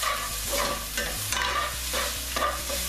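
Garlic, ginger and green chilies sizzle in a pan and are stirred now and then, a steady close frying hiss with soft scraping strokes and no talking.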